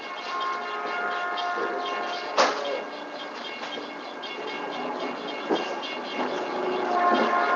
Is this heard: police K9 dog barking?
no